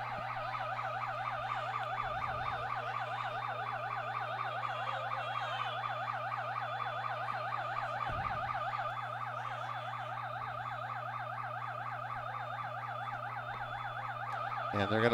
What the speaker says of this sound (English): we've got the security alarm going off here